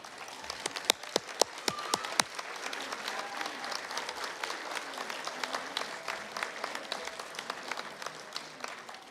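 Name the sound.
graduates' round of applause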